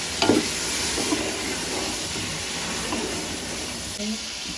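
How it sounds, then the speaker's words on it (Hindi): Mutton masala with spices and turmeric powder frying in a pan, a steady sizzling hiss throughout with a few scraping stirs near the start, under quiet background talk. "ये मेरे पास है हल्दी पाउडर, ये हम डाल के इसको अच्छी तरह मिला लेंगे।"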